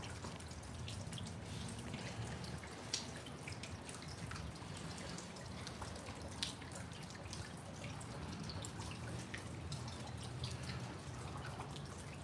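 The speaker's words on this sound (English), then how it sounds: "we could enjoy the sounds of the raindrops" Raindrops fall outdoors, a steady soft patter with scattered individual drips over a constant low wash, quiet and unbroken throughout.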